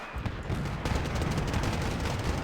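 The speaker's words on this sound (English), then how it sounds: "BMPT is going to fire." A BMPT tank in Wargame: Red Dragon opens fire on advancing Marines, a dense roaring barrage of rapid cannon and machine-gun bursts, loud and unbroken throughout.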